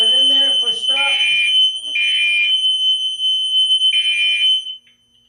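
Fire alarm set off during a test of a fixed temperature heat detector, a piercing tonal horn sounding in several evenly spaced pulses, with a person talking at the start.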